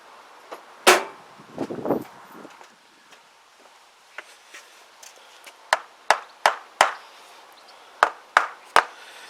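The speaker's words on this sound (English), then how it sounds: "Rubber hammer." A rubber hammer taps on the top end of a Huoniao HN125 motorcycle engine during teardown: sharp, distinct knocks, mostly spaced singly, with a brief rattle early on and a quick run of evenly paced taps near the end.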